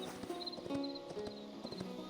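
Quick clip-clopping hoofbeats of a horse in the video game Hytale tap out a steady trotting rhythm, soft and fairly distant, with faint tonal game sounds behind.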